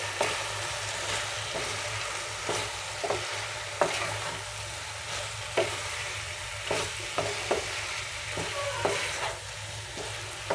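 A spoon scraping and stirring capsicum chicken fry in a sizzling pan, with repeated distinct stir clicks over a steady low frying hiss, fairly quiet and without voices.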